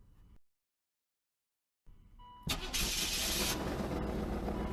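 A car with a suspected fuel problem is silent at first, then its engine cranks, catches and settles into a loud, steady idle close by.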